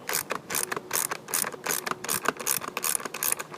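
Socket ratchet clicking rapidly in short bursts while loosening a stubborn recoil nut on a Honda GCV/GC small engine, close and fairly loud with no talking.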